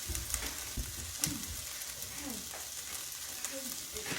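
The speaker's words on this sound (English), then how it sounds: "I'm going to add just a little bit of margarine in there for my onions." Onions frying in margarine in a pan while sausage cooks, a soft, continuous sizzle with occasional crackles and light thumps, fairly quiet and close, with no clear talk.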